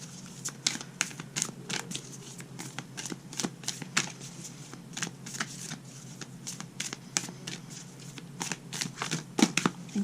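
Tarot-style Moonology oracle cards being shuffled by hand, a steady run of quick papery riffles and flicks that fills the clip at close range, with no talking.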